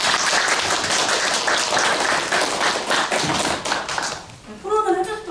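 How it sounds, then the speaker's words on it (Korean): Audience clapping for four debate panelists at a public forum, a steady dense round of applause for about four seconds that thins out before voices and brief tonal sounds take over at the end. "토론을 해주셨던 네 분에게 다시 한번 큰 박수 부탁드립니다."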